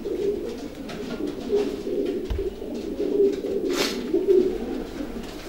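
A long-distance racing pigeon, a single-tail-feathered male, coos close by in low, soft, repeated rolling calls, with faint handling noise in the background.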